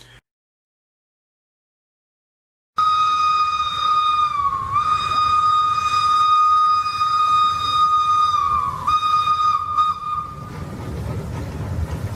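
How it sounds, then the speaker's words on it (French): After a silent start, a recorded steam locomotive whistle plays from a sound card, blowing long and loud with a couple of pitch dips, then fading into a low rolling train rumble. "le son du sifflet à vapeur d'une loco et le bruit de roulement d'un train"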